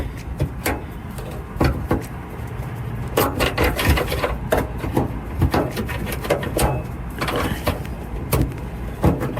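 Flat tool prying a trim clip loose on a Toyota Yaris, heard as scattered close plastic clicks, scrapes and knocks in irregular bursts over quiet background, with no talking.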